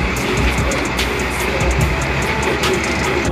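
A train passes close by with a continuous loud rumble and rattle. Rhythmic clicks from the wheels run through it, with no talk.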